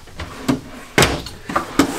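A kitchen drawer in a 2021 Grand Design Reflection 367BHS RV opens and shuts several times, giving four sharp thumps spaced about half a second apart, close and fairly loud.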